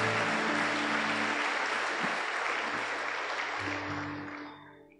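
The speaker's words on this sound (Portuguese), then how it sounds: "Dê um forte aplauso ao Senhor." A church congregation claps loudly and continuously, a thick, roomy roar of many hands that holds steady for several seconds and then fades away toward the end.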